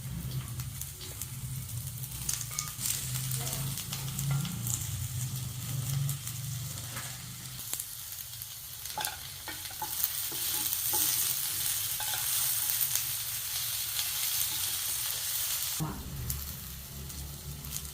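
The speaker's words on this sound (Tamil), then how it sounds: "இப்போ வெண்டைக்காயை போடும்" Steady sizzling of okra frying in a pan, with occasional stirring scrapes and clatter throughout; no talking.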